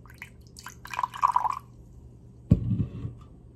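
Adrenaline Shoc energy drink poured into a small taster glass: a brief liquid trickle, then a sudden splashing pour that fizzes briefly, close and fairly loud.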